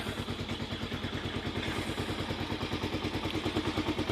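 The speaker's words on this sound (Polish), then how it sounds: "Także już sobie motocykl chodzi." Romet K 125 motorcycle engine idling outdoors on a sunny winter day, a steady close putter of rapid regular firing pulses that pick up slightly toward the end, with no voices over it.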